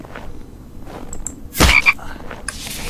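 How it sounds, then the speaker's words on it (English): A frog croaks in a video game, one loud close croak rising out of quiet ambience, followed by a shorter second call and a brief chirp near the end. "There we go, there's a frog."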